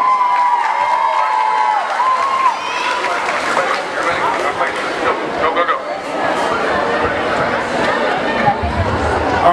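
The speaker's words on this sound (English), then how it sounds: "Give him a huge round of applause" A school pep rally crowd in a gym at a middle school homecoming rally cheers and applauds loudly and steadily, with dense shouting and chatter throughout and no pause.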